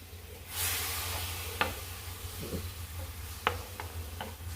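Grated coconut stirred in a hot pan makes a soft sizzle and rustle, with several sharp spatula taps and scrapes against the pan.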